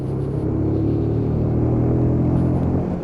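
A Lexmoto Michigan 125cc motorcycle with a five-speed gearbox accelerates hard on the road, its engine a steady, loud, close droning hum with rising harmonic tones and constant wind rumble, no talking.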